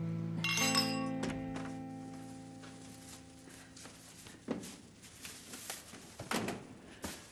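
Glasses clink together in a toast at a family dinner table, a bright cluster of chimes early on, followed by softer knocks and table sounds.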